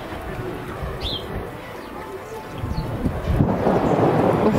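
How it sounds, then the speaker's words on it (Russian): Gusty wind buffets the microphone, building louder toward the end, with faint birdsong in the background. "Ветер сегодня сильный"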